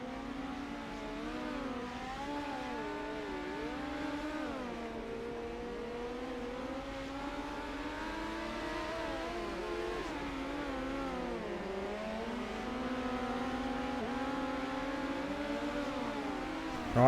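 Midget race cars in the Rush Sim Racing video game at Kokomo whine at high revs, engine tones rising and falling as they lap, several cars layered together in a steady, moderately loud drone.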